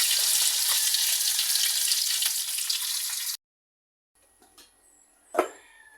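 Danggit, a dried fish, sizzles loudly and steadily in a frying pan for about three seconds. After a sudden cut to near silence come faint kitchen clatter and one sharp clink.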